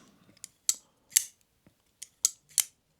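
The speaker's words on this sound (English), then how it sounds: "the blade is deployed with a flipper, which also feels quite nice" A Ruike P831S folding knife's flipper blade deploys with several sharp metallic clicks and snaps, close and crisp, in an uneven sequence with quiet gaps between them.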